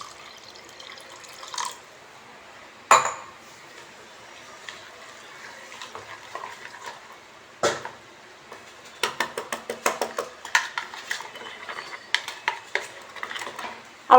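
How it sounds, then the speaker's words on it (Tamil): Water poured into a semolina (rava) mixture in a bowl, then stirred with a spoon: faint splashing followed by a run of quick scraping clinks against the vessel, close and quiet with no talk. "இப்போ இதில் தண்ணி ஊற்றிக்கலாம்."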